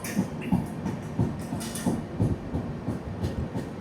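Bengaluru–Kozhikode express train rolling into Vadakara station, heard from inside a coach as rhythmic wheel clatter over rail joints with a low steady rumble, close and moderate.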